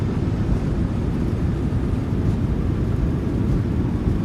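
PMDG 737 thrust reversers roaring on landing in Microsoft Flight Simulator 2020, heard as a steady, loud, broad rumble with no breaks throughout.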